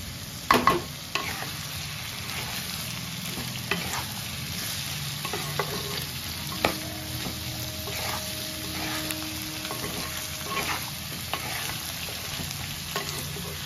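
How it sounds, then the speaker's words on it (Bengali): Potatoes and drumstick pieces frying with salt, turmeric and chilli powder in a pan, a steady close sizzle throughout with occasional clinks and scrapes of a stirring spoon, no talking. "এটাকে এখন আমি একটু ভালো করে ভাজবো।"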